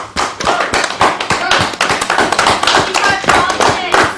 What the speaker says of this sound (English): if we get a round of applause from the audience